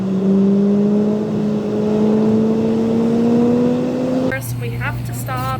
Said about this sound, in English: Do a little start up with the CPE exhaust